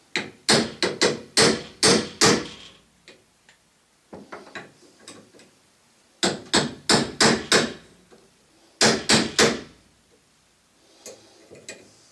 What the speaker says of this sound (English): do a little hammering here